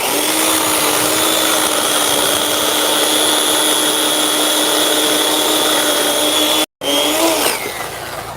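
A chainsaw cuts into wood with a loud, sustained, high whine. It drops out briefly near the end, then roars back and settles lower.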